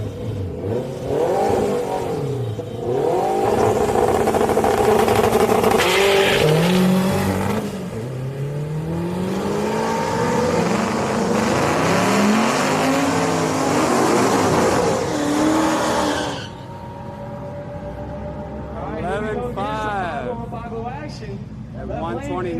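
A turbo Honda Civic and a GT500 drag race at Houston Raceway Park, with loud engines revving and roaring hard down the strip and falling away as they pass, then quieter engine sound. A commentator talks over the racing.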